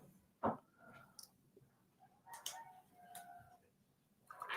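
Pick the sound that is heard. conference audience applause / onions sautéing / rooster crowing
rooster crowing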